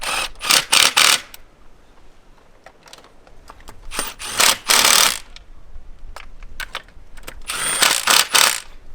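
A ratchet clicks in three quick bursts, close and crisp, while tightening the oil filter housing bolts on a BMW E92 335i. Quieter handling noises fill the gaps between bursts.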